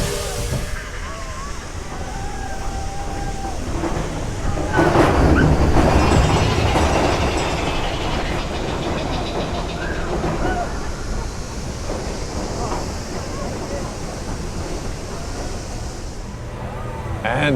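The Big Thunder Mountain Railroad roller coaster train at Disney's Magic Kingdom rumbles and clatters past, rising in loudness then easing off, amid crowd noise and distant voices.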